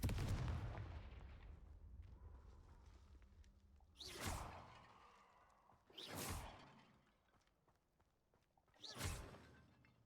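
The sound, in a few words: Confringo blasting spell cast in the video game Hogwarts Legacy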